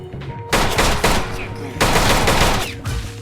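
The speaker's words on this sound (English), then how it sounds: "I'm hearing more gunshots" Gunfire in the video game Misery: loud bursts of rapid shots in two long volleys, close and harsh, with a short lull between them.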